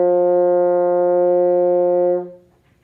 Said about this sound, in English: slow buzz and see if we can get the C to come out.